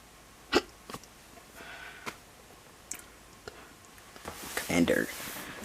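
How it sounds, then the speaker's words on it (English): A person has a bout of hiccups, with short sharp catches scattered through a quiet room, a few louder ones standing out and a burst of breathy noise near the end. "Oh gosh, I hate hiccups."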